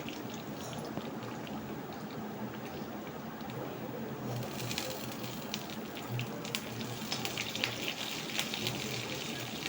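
Curry leaves fry in hot oil with green chilies in a pan, a steady close hiss of sizzling that grows brighter and crackles more sharply partway through, with no voices.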